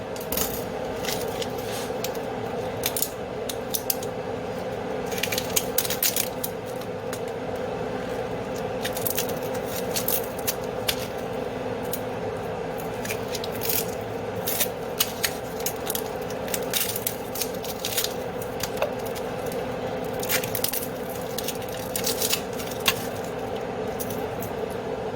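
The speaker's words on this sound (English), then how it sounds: "And I will take the peeling off." Papery onion skin is pulled away by hand in a home kitchen, making a steady run of small crinkling crackles and sharp ticks, close up and alone.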